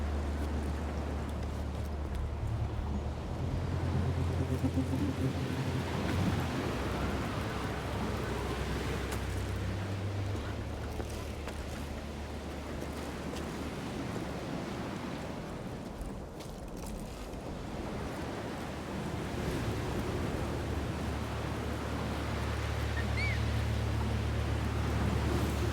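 Wind in the video game Jusant, a steady, full rushing whoosh that swells and eases slightly over a long stretch, with no voices.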